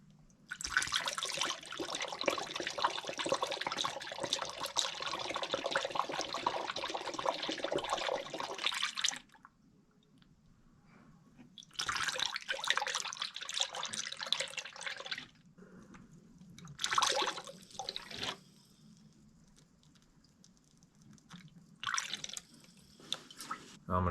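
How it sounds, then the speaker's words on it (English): Mixed 50-50 antifreeze poured into the radiator of a Geo Tracker, a steady liquid splashing and gurgling in long runs broken by pauses and shorter pours, heard up close. "now I'm going to fill it with 50-50 antifreeze"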